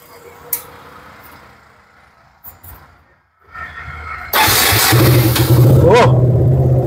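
A second-hand BS4 motorcycle sits quiet, then its engine fires up at about four seconds and settles into a loud, steady run with a sharp rev near the end, close by.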